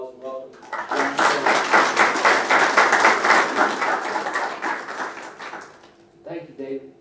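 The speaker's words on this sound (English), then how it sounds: "Please give him a big round of applause and welcome" Applause breaks out for a guest speaker being welcomed: a brief voice at the start, then a full burst of clapping that swells and holds for several seconds before fading as talk resumes.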